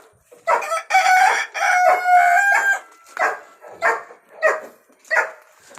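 Roosters crow loudly and repeatedly as a dog gives several short barks while chasing the chickens, the crowing long and overlapping at first, then separate bursts of barks and clucks follow.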